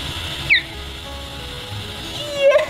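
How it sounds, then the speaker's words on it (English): Mountain bluebird calls: a few brief, clear chirps, one early and a couple near the end, standing out over a soft steady background hum. "The mountain bluebird"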